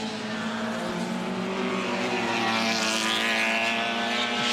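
Classic British race cars roaring at full throttle on the final lap of the Goodwood Revival, a loud, sustained engine drone that swells slightly as they pass, with no voices over it.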